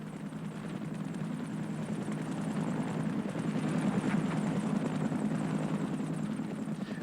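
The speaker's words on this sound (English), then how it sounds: "a United States helicopter patrols the border of East Germany" A United States helicopter patrolling the East German border in 1979 gives a steady, loud rotor and engine drone that holds close and constant throughout, with no talking.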